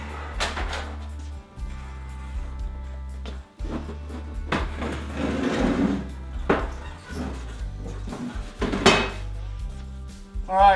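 A metal light fixture pan is taken down in a workshop, with irregular clanks, rattles and hollow metallic knocks close by and a low background hum.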